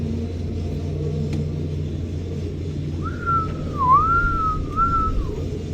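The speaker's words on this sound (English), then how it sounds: "Now you can hear the wind, hear that?" Strong wind blows around a tower crane at a construction site, with a constant low rumble of machinery underneath. Partway through, a rising and falling whistling tone drifts over the top, with no voices.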